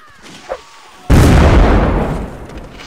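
Artillery fires in the Mount & Blade: Blood and Iron video game: a single loud, close boom hits partway through and rolls off into a long rumbling tail after a quiet moment.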